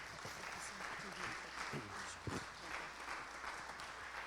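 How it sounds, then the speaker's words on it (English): A church congregation claps in praise during a New Year service, a moderate, fairly steady patter of hands with voices and some low thumps mixed in. "give him a hand clap of praise"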